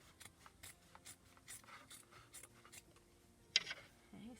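Heavy upholstery fabric is cut along its edge for a hardcover journal cover: a quiet series of soft, rhythmic snipping strokes, close by, with one sharper crisp cut near the end.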